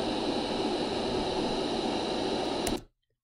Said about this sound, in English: Sometimes what you really need in your life is some good speech-shaped noise